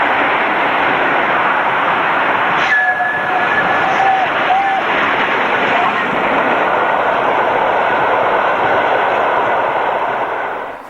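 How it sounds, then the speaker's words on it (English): Steam locomotive Princess Elizabeth passing broadside at speed, a loud, sustained roaring rush of exhaust and train noise with a brief whistle-like tone early on, filling the whole stretch. "Princess Elizabeth broadside at Petrel Green in May 2002."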